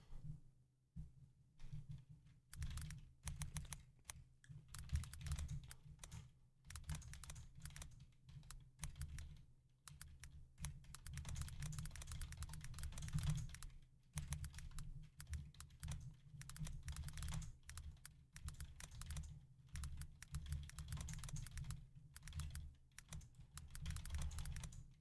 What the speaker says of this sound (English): I'm actually typing that right now.